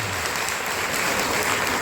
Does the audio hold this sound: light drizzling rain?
no